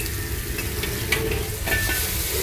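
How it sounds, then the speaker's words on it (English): Peppers and mushrooms stir-fried quickly in a wok give a steady, loud sizzle with brief stirring scrapes and clatters over the hiss, close up, with no talking. "Stir fry quickly. Get that raw heat."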